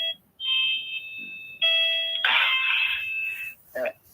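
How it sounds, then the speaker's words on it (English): A bell rings loudly nearby in a home, sounding in a few separate bursts of tonal ringing, with a short extra burst at the end and no talk over it. "I didn't hear you because of that bell."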